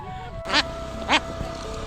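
Ducks quack near Panchet Dam on the Damodar in Bankura, giving two distinct honking quacks about half a second apart over a low outdoor hum. No one speaks.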